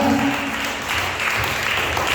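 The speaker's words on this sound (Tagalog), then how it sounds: "Sige po, palakpak para sa ating Panginoon." During a church worship service, a congregation claps in praise to God, with a brief, steady wash of applause at fairly close range and faint voices underneath.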